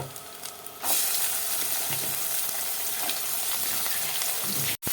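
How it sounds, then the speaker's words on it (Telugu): Onions and green chillies fry in hot oil for a prawn curry, a steady dense sizzle that jumps up after a quieter first second and holds loud and close, with faint stirring ticks, then a brief dropout near the end. "ఉల్లిపాయలు పచ్చిమిరకాయలు రెండు కూడా వేసేసుకుందాము"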